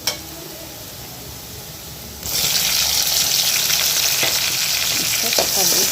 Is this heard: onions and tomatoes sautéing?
yes